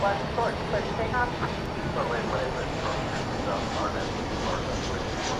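An Envoy airliner taking off from runway 18 left at DFW airport at night makes a steady roar under a radio voice.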